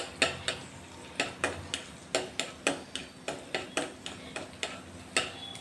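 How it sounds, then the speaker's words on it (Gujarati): Finely chopped garlic and ginger sauté in a pan for sweet corn soup, with a steady rhythm of sharp spoon clacks against the pan over a soft, faint sizzle. "હવે એની અંદર જે લસણ અને આદુના ઝીણા ઝીણા કટકા કરેલા હતા એ નાખી દેશું અને સરસ સોતે કરી લેશું"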